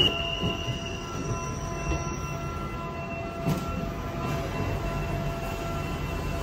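Train wheels squeal steadily along the rails on a train ride to Versailles, France, a sustained high metallic screech over a continuous low rumble of the moving carriage, heard up close from inside.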